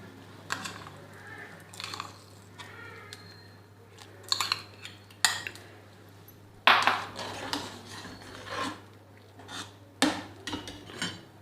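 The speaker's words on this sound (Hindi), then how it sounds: "चावलों को हमने अच्छी तरह से दूध के साथ मिक्स करना है।" Rice stirred into milk in a pot over low heat for caramel kheer, with scattered spoon scrapes and metallic clinks against the pot at irregular intervals, close and fairly quiet.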